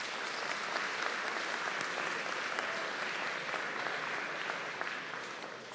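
An audience at a mayoral town hall bursts into sustained applause, a dense, even clapping that holds for several seconds and tapers slightly at the end.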